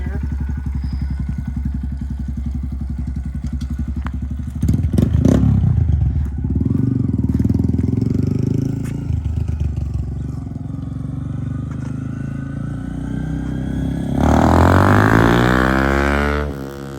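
Honda Grom motorcycle fitted with a Yoshimura RS9T exhaust, idling with a burbling note, clattering and thumping as it moves off, then rising into a loud revving pass near the end; a voice speaks briefly.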